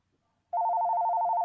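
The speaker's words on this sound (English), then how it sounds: "Yeah, this is my house phone." A house phone starts ringing after a short silence, a loud, steady electronic warble that keeps trilling without a break to the end.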